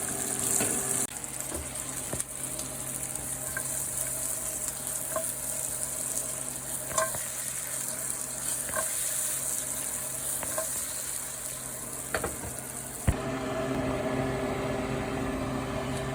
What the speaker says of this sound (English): we're gonna start a light saute on some peppers